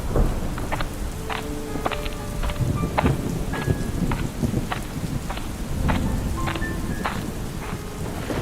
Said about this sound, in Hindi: धीरे धीरे बारिश शुरू हो गई